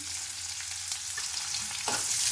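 Chopped onions sizzle in hot oil in a pan, a steady close crackle and hiss with a brief stirring scrape near the end.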